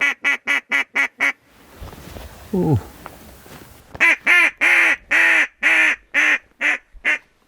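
Ducks quack in loud, rhythmic bursts during a foggy duck hunt, first a quick run of calls, then a quiet pause with a brief exclamation, then a longer series of strong, evenly spaced quacks.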